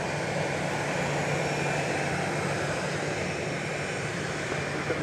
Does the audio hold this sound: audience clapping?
no